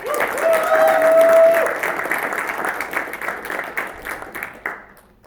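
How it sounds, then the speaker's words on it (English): An audience at an Indian student association cultural show breaks into loud applause that swells, then thins out, with a brief tone and some cheering early on. "Can we have a round of applause again for Poonam?"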